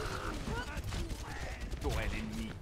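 An enemy turret fires in Overwatch on the Route 66 map, loud continuous gunfire under busy game effects and someone speaking French over it.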